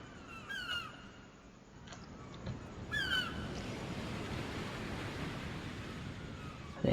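A flock of birds caws in an Unreal Engine simulation, with several sharp calls near the start and a cluster around three seconds over a steady hiss of wind-like ambience.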